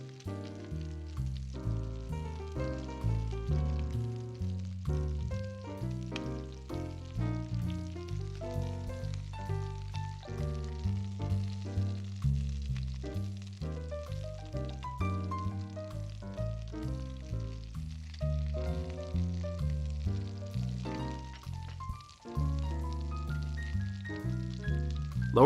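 Whole chicken pieces brown in a sauté pan with a steady, close sizzle of frying fat that continues throughout, with occasional louder pops and stirring.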